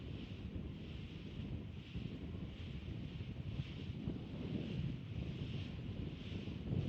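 Wind buffets a sailing yacht near Mount Wellington, Hobart, as a steady, low, rumbling roar with gentle swells in strength, together with faint water wash around the hull and no voices.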